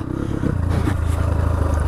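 Close, loud motorcycle engine rumble with a steady throb, rattling and scraping noises over it.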